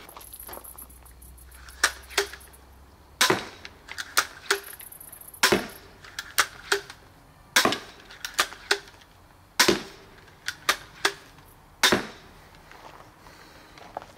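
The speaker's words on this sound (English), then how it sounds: "Next candidate, the one with the break action." A break-action crossbow shot repeatedly for home defense, giving sharp loud snapping releases with quick clacks and thuds of impact and reloading in between, irregularly spaced over about fourteen seconds with no talking.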